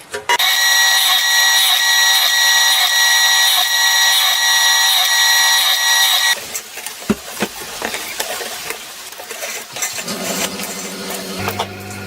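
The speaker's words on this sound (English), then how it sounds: "These are going to be a 1/8 inch drill bit hole. I'm going to put them every 1/2 inch." A drill boring 1/8 inch holes in metal sheet for a homemade jet engine gives a loud, steady high whine for about six seconds, then stops, leaving clatter and handling noises with a low hum near the end.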